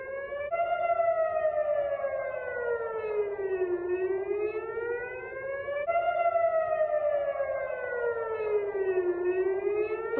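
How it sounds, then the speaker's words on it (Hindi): A civil defence air raid siren sounds over Jammu during a blackout, its loud steady wail sweeping down and back up in long repeating cycles with no voices. "सायरन की आवाजें हैं।"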